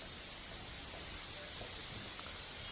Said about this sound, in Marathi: सकाळपासून जिल्हाभरात ढगाळ वातावरणासह पावसाची रिमझिम सुरू आहे